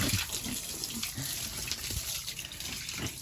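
Tap water gushes steadily while a pygmy pig is bathed, a close, constant splashing flow with no speech.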